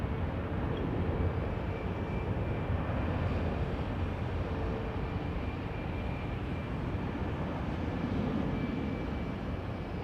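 An arriving aircraft makes a shallow left turn on its approach to runway 09, giving a steady, distant broadband engine roar that holds constant throughout.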